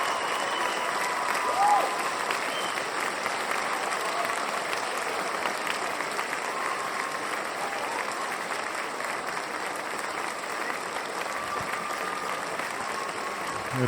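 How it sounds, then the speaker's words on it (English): Sustained applause from a lecture audience, honoring David Hatcher Childress at the close of his talk on Tesla, Mars and Moon monuments, a dense steady wash of many hands clapping, even in loudness throughout with no voices rising above it. "another round of applause for David Hatcher Childress"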